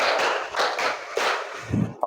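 Several people clap in unison as a counted classroom ice breaker, with a series of sharp, close claps at an uneven pace, the last few softer and quicker.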